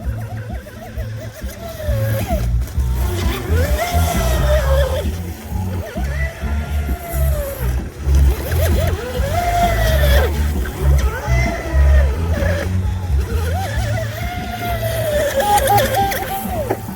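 A custom carbon fiber RC boat running 3S to 6S power on a Turnigy 70 hull with an SSS 2960 3000kv motor whines as it passes over water again and again, rising and falling in pitch over steady wind rumble.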